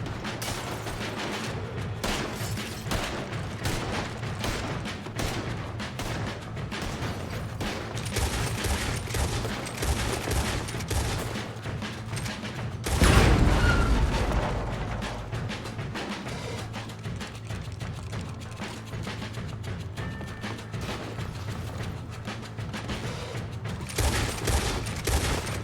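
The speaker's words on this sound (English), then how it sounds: "Shit, they're shooting from the sides." Enemies shoot in a video game, producing rapid bursts of gunfire that rattle on almost continuously, with one heavier, louder blast partway through.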